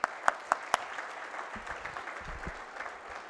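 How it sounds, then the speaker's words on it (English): An audience at the KPIT Sparkle 2017 Grand Finale awards night applauds, opening with a few sharp, loud single claps before settling into softer, steady clapping from the crowd. "So claps for them also"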